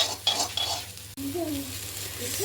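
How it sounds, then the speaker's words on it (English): Onions with fennel seeds, pepper, ginger and garlic frying in a pan for a raw jackfruit curry, a steady close sizzle broken by a few stirring scrapes and clinks. "ये इतना चीज़ हम लोग ने ये प्याज में डाल के अभी भूनने जा रहे हैं"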